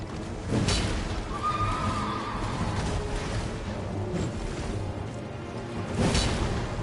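Horse neighing in the video game Elden Ring, a whinny rising out of a busy mix of combat whooshes and effects, moderately loud amid the game's background sound.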